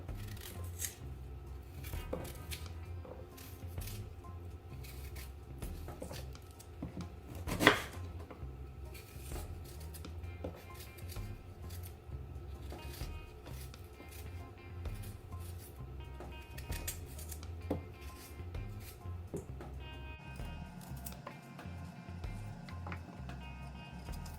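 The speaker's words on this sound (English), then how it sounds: "So we're going to peel our ginger." Fresh ginger root is peeled by hand in a home kitchen while preparing carrot juice, giving soft, irregular scraping and cutting sounds, close and quiet, with one sharper knock partway through.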